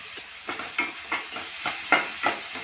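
Onions frying in oil in a pan with salt added, for a dondakaya masala curry: steady soft sizzle broken by regular scraping stir strokes about every third of a second, close and fairly quiet, no talking.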